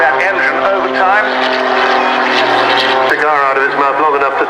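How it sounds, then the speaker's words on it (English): An aerobatic muscle biplane's engine roars at full power down the runway at an RAF Cosford airshow, loud and steady with shifting pitch, under continuous commentary from an announcer. "That engine just powering his way down the runway."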